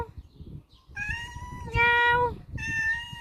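A black pet cat meows close by in three rising, tonal cries, the first short and the next two longer and louder, with brief pauses between them and faint room noise underneath.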